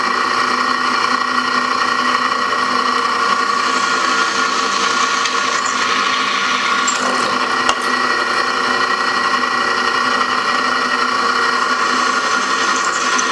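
A power drill bores weight-reduction holes in the tang of a hand-forged coil spring steel knife with a 5/16 bit, a steady loud whirring grind that runs unbroken throughout, with one brief spoken word.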